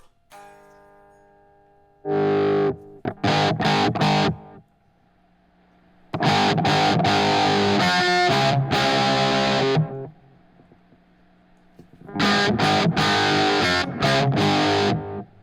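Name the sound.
electric guitar through pedalboard with MXR EQ pedal on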